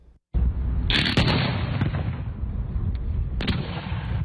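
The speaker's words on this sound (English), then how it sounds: "This video shows what could happen if one of them was to blow up while you were holding it." A firework blows up in a sharp, loud blast, followed by crackling and popping bursts and a second loud crack a few seconds later.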